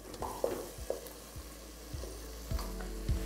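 Mutton pieces, about 1.2 kg of medium cuts, going into a hot pan of spices over low flame, a quiet sizzle with several clattering thuds and scrapes as the meat is dropped and stirred.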